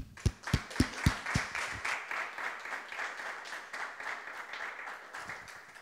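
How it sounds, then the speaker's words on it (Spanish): An audience at an open-source conference talk breaks into applause: a few sharp, close claps at first, then a thinner, steady patter of clapping that fades gradually. "un aplauso lo primero, venga."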